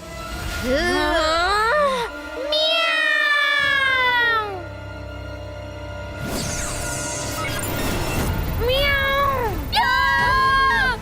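Animated cartoon cat in a kids' adventure film, voiced meows and yowls with swooping, wavering pitch in several bursts, loud and close, mixed with shouting and a busy crowd-like background.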